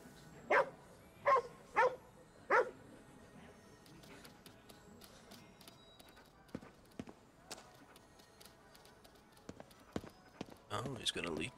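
A dog in the video game Ghostwire: Tokyo barks four times in quick, evenly spaced, loud woofs near the start, followed by quieter game sounds and brief speech.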